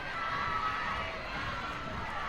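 Loud, energetic crowd at a college softball game between Tennessee and Ole Miss, a dense continuous roar of cheering and shouting with children's voices, steady and close throughout.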